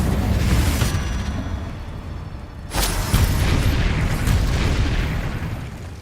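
A Confringo spell explosion in the Hogwarts Legacy video game: a deep, booming blast that hits sharply partway through and rolls out over a rumbling background of steady combat noise.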